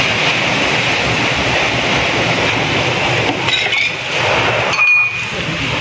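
Strong typhoon wind roars steadily and loudly, a dense rushing noise with brief rattling and a faint whistle near the end, in Masbate City under Signal No. 4.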